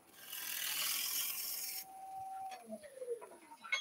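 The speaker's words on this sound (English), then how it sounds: "So my oval skew, just going to shear scrape that together." An oval skew chisel shear-scrapes a wooden hand mirror on a lathe: a close, continuous raspy scrape for about two seconds cuts off, leaving the quieter whir of the spinning lathe and a few faint clicks.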